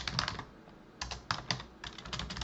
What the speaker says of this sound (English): Just type this.